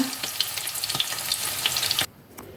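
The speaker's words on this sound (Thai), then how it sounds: "เดี๋ยวซาร่าขอทอดกันนะเพื่อนๆเนาะ" Food frying in a pan outdoors, a loud close sizzle with stirring scrapes and crackles that cuts off abruptly near the end, leaving a quieter hiss.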